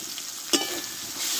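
Spice masala frying in a pan for a cauliflower curry, stirred with a spoon: a continuous close sizzle with one brief scrape or knock partway through, no voices.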